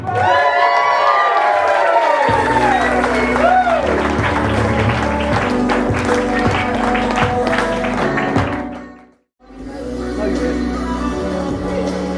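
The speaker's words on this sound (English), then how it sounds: "How about giving him a nice big round of applause?" An audience claps and cheers loudly, with whoops and shouts over dense applause that is preceded by an excited voice and cut by a brief silence before the clapping resumes.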